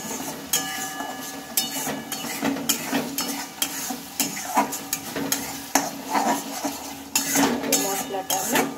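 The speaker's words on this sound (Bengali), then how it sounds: "ভালোভাবে মশলাটাকে নেড়ে চেড়ে নেব।" Spoon stirring spices with turmeric powder and salt in a pan, heard as close, repeated metallic scrapes and clinks over a soft frying sizzle, with no talk.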